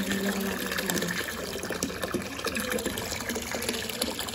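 Water runs from a tap into a container in a village home. It makes a steady, close gushing splash that continues without a break.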